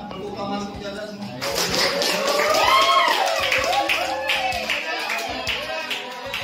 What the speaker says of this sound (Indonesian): mari ada tepuk tangan untuk jaga semua